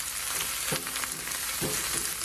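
Crushed garlic and vegetables sizzle in a pan for a vegetable Manchurian with spinach, carrot and cabbage, with a steady frying hiss and a couple of soft scraping stirs of the utensil.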